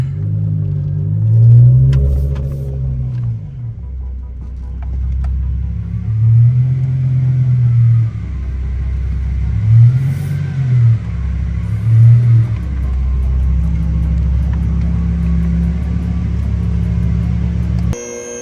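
A BMW E60 M5 engine with an upgraded 3-inch X-pipe exhaust gives a deep, loud, close idle rumble broken by several rising revs, then settles back to a steady drone.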